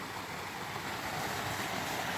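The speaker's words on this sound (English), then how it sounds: "It just happens to be a pretty neat little waterfall along the way." Small waterfall pouring into a deep, cold pool gives a steady, dense rush of water, loud and unbroken throughout.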